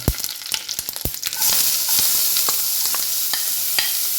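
Carrots drop into a hot pan with popped mustard seeds and curry leaves, a cluster of clattering stirs and taps giving way to a steady, bright sizzle of frying close by, with no talking.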